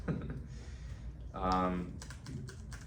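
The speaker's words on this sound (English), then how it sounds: "There you can hear the keys" Keys on an Arteck wireless keyboard clatter in a quick run of soft clicks near the end, with a voice talking partway through the clip.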